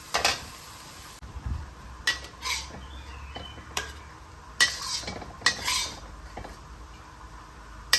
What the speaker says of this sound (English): Turn off the heat and mix it in.